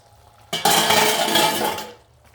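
Tomato pulusu made with okra slides from a cooking pot into a serving bowl in a single loud scrape-and-pour lasting about a second and a half, with faint kitchen clatter around it.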